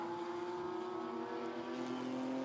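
A Porsche GT4 race car runs on the Jeddah street circuit during GT4 European Series qualifying, its engine a steady, fairly distant drone holding one pitch for the whole stretch.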